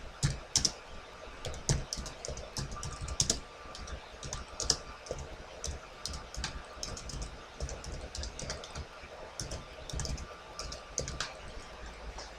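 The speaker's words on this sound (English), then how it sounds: "So for that we are going to type" Computer keyboard typing at close range: a fast, irregular run of crisp key clicks that goes on steadily, with no talk over it.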